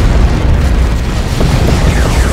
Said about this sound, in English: Down goes the tank.